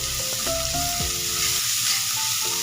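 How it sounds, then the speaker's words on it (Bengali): Onions and ginger-garlic paste frying in oil in a wok, a steady close sizzle with scraping stirs and a few clinks, no voices. "কড়াতে তেল দিয়ে পেঁয়াজ দিয়ে দিয়েছি। এই পেঁয়াজটা ভালো করে একটু লাল লাল করে ভেজে নিই।"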